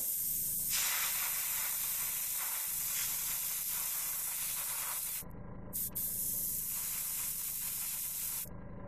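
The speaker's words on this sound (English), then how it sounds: "So if I can help it, actually spray off, away from the model and then bring it on." An airbrush hisses in long, steady bursts of spraying paint onto a miniature model, close and continuous, with brief pauses between passes.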